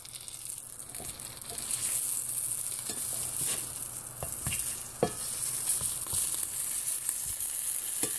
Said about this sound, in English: Sizzling right now.